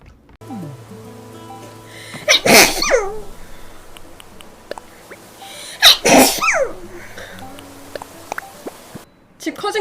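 Two loud, sharp sneezes ring out a few seconds apart, each a sudden explosive burst, with a person speaking between and around them.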